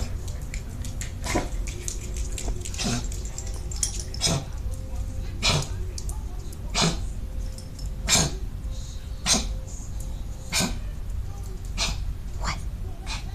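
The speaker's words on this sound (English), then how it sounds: "Barking at me." A dog gives a string of short, sharp barks or coughs spaced a second or so apart, close and moderately loud against a steady low background hum.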